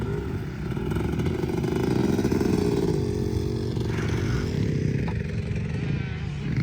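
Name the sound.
motorcycles riding in snow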